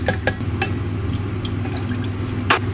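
Water poured into a lemon curd mixture in a home kitchen, with liquid trickling and a few bright glassy clinks and drips; no one talks.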